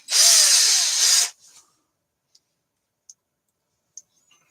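A DeWalt power drill with a poor-quality chuck whirs loudly for about a second and then cuts off, followed by a few faint scattered clicks and taps in near silence.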